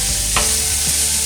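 Chopped onion sizzles loudly in hot oil with spices, a constant crackling hiss close up, with a brief stirring scrape partway through.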